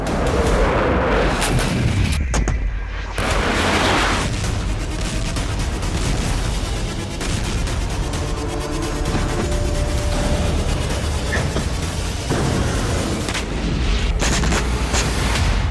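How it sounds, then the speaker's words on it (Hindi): Heavy artillery fire and explosions from military exercises in Belarus near the Ukrainian border rumble almost without pause, loud deep booms blending into a dense, continuous roar with a few sharper bursts. "बम धमाके गूंज रहे हैं।"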